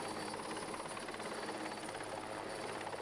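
Helicopter hovering over a vessel at sea during winching operations, a steady broadband rotor and engine roar with a high whine, continuous and fairly distant, no voices.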